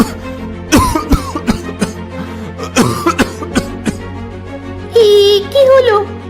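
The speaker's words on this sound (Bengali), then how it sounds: "কি হলো? আপনি কাশছেন কেন?" A cartoon beggar coughs in a string of harsh, close bursts with a raspy throat sound between them, ending in a drawn-out strained vocal groan.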